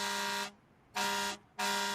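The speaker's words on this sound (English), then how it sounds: "I guess we got the air horn too." Three loud air horn blasts, each a flat, brassy tone; the first long, then a pause, then two shorter honks in quick succession.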